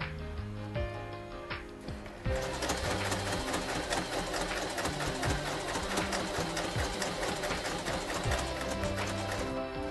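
A Kreshay sewing machine stitches along a fabric seam, its needle mechanism running in a steady, fast rhythmic chatter that starts after a brief quieter moment and stays loud and close throughout.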